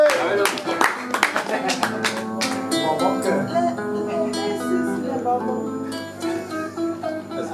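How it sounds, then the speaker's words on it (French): An audience at a slam poetry night claps for a performer: a burst of sharp, scattered handclaps up front, then thinning as music and voices take over. "Sous vos ovations, s'il vous plaît, applaudissez le griot!"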